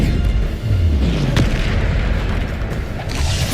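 Bombarda spell explosion in Hogwarts Legacy: a loud, deep boom with a low rumbling tail, followed by dense crackling blast noise that stays heavy throughout.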